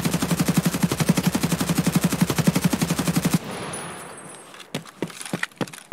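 A long automatic burst of flechette rounds fired into the air in Escape from Tarkov, rapid evenly spaced shots for about three seconds, then a few scattered sharp clicks and clatters.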